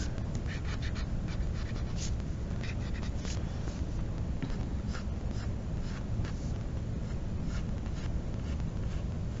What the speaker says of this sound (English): I'm picking up my pencil so that I can correct my lines.